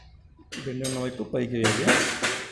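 A metal washer is set onto the clutch of a Pulsar 150 motorcycle, giving a few short metallic clinks and scrapes close up while someone talks over them.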